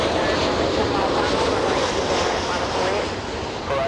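A Southwest Airlines Boeing 737 jet at LAX airport gives a loud, steady broadband roar mixed with wind buffeting on the microphone, continuous for the whole stretch.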